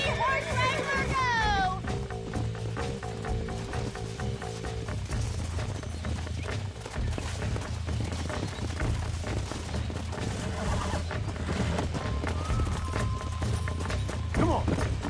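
In the Red Dead Redemption video game, a horse's hooves clip-clop under busy game music and excited voices as a wrangler breaks in a horse, with a whinny and rapid hoof hits.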